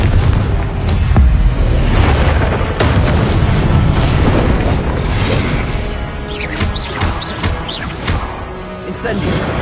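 Confrigo blasting spell cast in a Harry Potter video game, giving heavy booming blasts and crashing debris in quick succession, loud and close, with a voice talking over the explosions.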